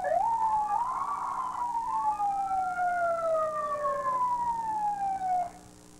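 An emergency siren wails nearby in a village during a Santa festival in Maple, sweeping up and down in long overlapping tones before cutting off near the end.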